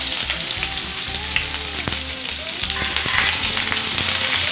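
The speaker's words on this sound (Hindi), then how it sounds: "प्याज टिके लाइट गोल्डन होला पर्यंत भाजीबा" Chopped onions sizzle loudly in hot oil with cumin seeds, bay leaves and cinnamon in a pan, a constant crackling hiss close up with occasional stirring clicks and scrapes.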